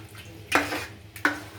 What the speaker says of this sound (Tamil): அதை போட்டு நல்லா கிண்டி வரணும்.